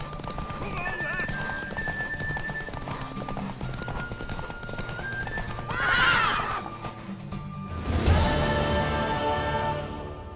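Steady clip-clop of horse hooves runs throughout in The Witcher 3: Wild Hunt, with a horse neighing loudly midway and again near the end over music and voices.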